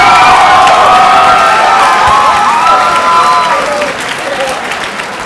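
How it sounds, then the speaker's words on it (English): Applause and cheering erupt from the crowd at a pro MMA event, loud and dense with whoops and shouted voices riding over the clapping, then easing slightly toward the end. "We got to bring in a round of applause for this young man."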